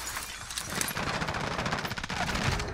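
Sustained automatic gunfire in Call of Duty Warzone, a fast, even volley of shots running the full length, fairly loud and close, with a sharper crack near the end.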